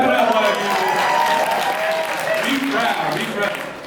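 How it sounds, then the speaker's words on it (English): A comedy club crowd at the Tempe Improv claps and cheers in a loud, steady wash that holds for the whole stretch, with a voice calling out over the noise. "Make some noise. Clap it up"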